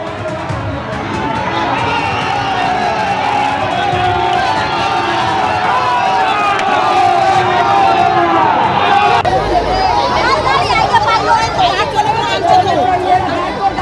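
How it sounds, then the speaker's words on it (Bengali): Trinamool-led protesters, including women, chant slogans such as Joy Bangla at an opposition leader's convoy in Mathurapur, a loud, continuous crowd roar of overlapping voices and shouts, close and sustained, swelling louder in the second half. "বিরোধী দলনেতার কনভয় লক্ষ্য করে স্লোগান দিতে থাকে"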